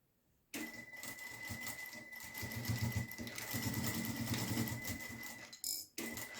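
Sewing machine running a short seam to join two fabric pieces for a small handmade eyeglass case, a steady fast mechanical stitching whir after a quiet start, close and loud, with a brief pause near the end.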